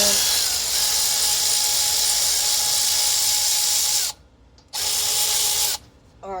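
An air ratchet spins out rusted wheel hub assembly bolts on a Scion FR-S, a steady whirring buzz running for several seconds, breaking off briefly twice near the end before starting again.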